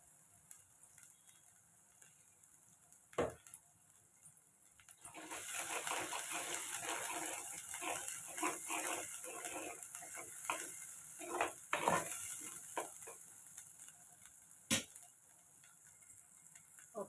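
Onions fry in a pan for a capsicum and vegetable curry, opening quietly with a single sharp knock, then swelling into a steady sizzle broken by stirring scrapes and a few loud clacks of utensils, with no speech.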